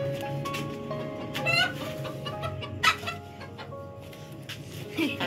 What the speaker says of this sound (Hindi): ये देखें जी हमारी मुर्गी आखिरकार पकड़ी ही गई